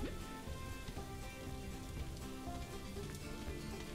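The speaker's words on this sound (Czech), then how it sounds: "a zase nám tam venku prší, to snad není možný" Rain falls steadily in the zoo-management video game Planet Zoo, a soft continuous patter of drops heard quietly with no speech.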